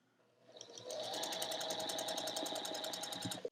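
A sewing machine ramps up and then runs steady and close, stitching half-square triangle units for a quilt block, with a fast, even mechanical whir and pulsing needle rhythm that stops abruptly.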